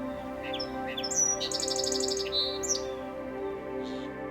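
A song sparrow sings outdoors: a few sharp introductory notes followed by a fast, buzzy trill and a couple of closing chirps, clear and fairly close, with no voices.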